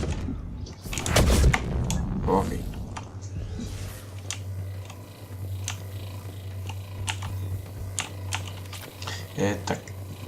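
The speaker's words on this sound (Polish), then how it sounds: "Tak, to co słyszycie. Moja klawiatura." Clicky keyboard typing in quick irregular bursts, close and fairly loud, over a steady low electrical hum, with a brief muffled knock near the start.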